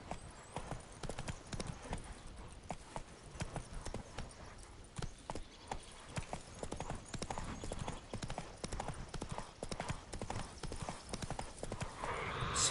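Hooves clip-clop steadily as a horse gallops in The Witcher 3: Wild Hunt on PS5, a continuous rhythmic beat over game ambience with a whinny near the end.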